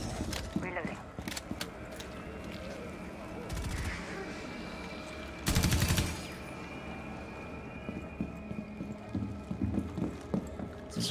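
Gunfire in Rainbow Six Extraction, with scattered shots and a dense loud burst near the middle, mixed with footsteps, game effects and a person talking over it.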